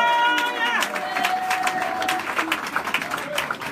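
A church congregation applauding and cheering together, with a dense wash of clapping and shouts, a voice calling out over it and a sustained tone ringing at the start.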